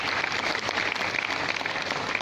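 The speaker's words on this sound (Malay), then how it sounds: "Berikan tepukan kepada Cikgu Siddiq." An audience applauds for a teacher, Cikgu Siddiq, at a university alumni talk in Malaysia. The clapping is dense and steady and continues throughout without a break.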